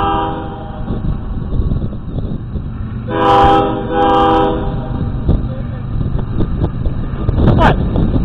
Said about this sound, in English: The beautiful K5LF horn and an e-bell.